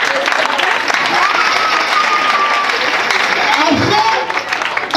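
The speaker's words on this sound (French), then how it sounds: "On applaudit d'abord." An audience at a private school prize ceremony applauds steadily, a dense wash of clapping from many hands, with a voice briefly audible over it and a short dip near the end.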